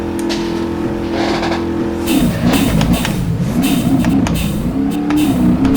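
A rally car engine in the RallyCat video game drones loudly and steadily, then shifts into a wavering, revving tone with crackling bursts and hissing turbo purge breaths, continuous and close throughout.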